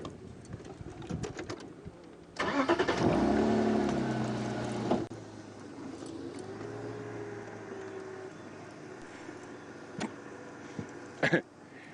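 A safari vehicle's engine turns over and catches with a brief louder rumble, then settles to a quiet idle amid soft outdoor ambience and faint bird coos.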